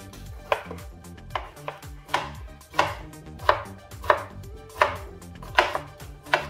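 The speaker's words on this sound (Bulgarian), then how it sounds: "Следващата стъпка е да нарежем 2-3 хрупкави, крехки, кисели краставички." Crisp, rhythmic knife chops through two or three crunchy pickles on a cutting board for a Russian salad, about a dozen evenly spaced cuts, close and clear with no talking.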